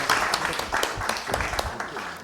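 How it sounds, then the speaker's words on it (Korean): A conference audience in a hall gives a burst of vigorous applause, a dense wash of many hands clapping with a few sharper individual claps, continuing steadily throughout. "우리가 박수로 힘차게 이렇게 격려를 해주시기 바랍니다"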